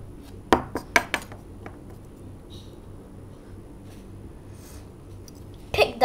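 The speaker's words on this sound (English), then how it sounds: "Now pick up those glass figures over there." Glass figures are picked up and handled, giving a few sharp clinks in quick succession at the start, then quiet with light rustles, and another burst of clinking at the end, close and clear.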